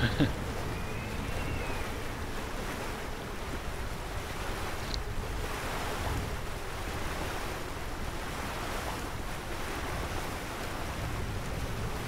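Gusty wind and rolling waves rush steadily around a racing yacht in the Sailaway sailing simulator on a Volvo Ocean Race leg from Lisbon toward Cape Town, forming a constant, full roar throughout.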